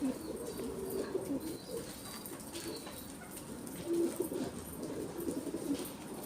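Pigeons coo in a loft holding about nineteen birds, low repeated throaty calls from several birds overlapping at close range, with occasional chirps and light rustling.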